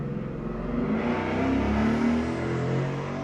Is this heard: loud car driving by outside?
yes